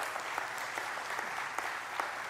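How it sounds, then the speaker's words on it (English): A church congregation applauds, a soft, even wash of clapping heard faintly and at a distance, steady throughout with no voices on top. "Yeah, you can applaud that."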